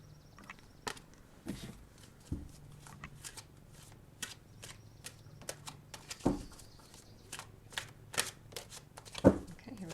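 Oracle cards from a unicorn-themed deck being drawn and shuffled, a run of crisp snapping riffles and flicks at close range, irregular and quiet, with no talking.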